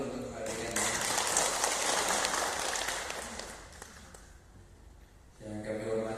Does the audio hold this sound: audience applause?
yes